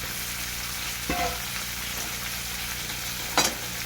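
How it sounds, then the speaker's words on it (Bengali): Flat beans (shim) and potatoes fry in hot oil with a steady, even sizzle, broken by a couple of sharp clacks as they are stirred in the pan. "ভেজে নেবো সিমটাকেও আলুর সাথে এইভাবে ভেজে নেবো"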